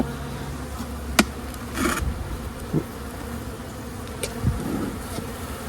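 Honey bees hum and buzz around an opened hive during a swarm-prevention inspection, a steady close drone with a few sharp knocks and scrapes of hive tools on the frames.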